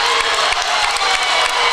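A crowd at a basketball game reacts to a foul call with loud, sustained cheering, shouting and clapping that fills the whole moment.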